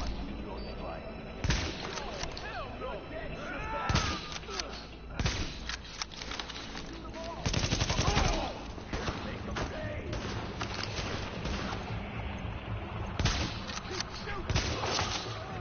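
Sharp gunshots crack out in Tom Clancy's The Division, in scattered single shots and short clustered volleys over background game noise, with someone talking between them.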